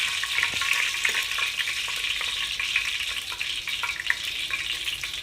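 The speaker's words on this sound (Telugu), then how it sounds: "మసాలా దినుసులన్నీ వేసుకొని అవి ఫ్రై అయ్యేదాకా మనం ఫ్రై చేసుకోవాలి" Whole spices frying in hot oil for a vegetable pulao, a loud, dense, steady crackling sizzle with small pops throughout, close up and with no voices.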